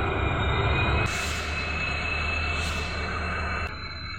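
Janshatabdi Express train running from Guwahati to North Lakhimpur at night, a steady loud rumble of wheels and carriage noise with a brief rise in hiss midway, continuous throughout.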